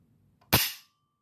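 The hammer falls on a dry-fired Palmetto State Armory AR-15 Freedom lower receiver. One sharp, close metallic snap rings out against near silence and fades quickly, with a faint click just before it.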